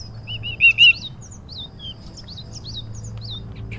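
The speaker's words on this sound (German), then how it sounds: "Kannst du bitte aufhören zu zwitschern?" A cartoon bird chirps in the fantasy adventure game Book of Unwritten Tales. It gives a loud, close burst of quick tweets, then keeps up scattered, fainter chirps over a low background hum.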